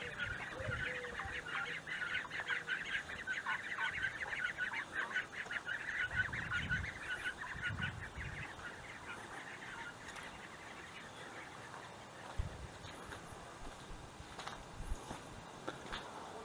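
Waterfowl kept on a rural village property call in a steady chattering, honking chorus that runs throughout, with some louder honks standing out against continuous outdoor background noise.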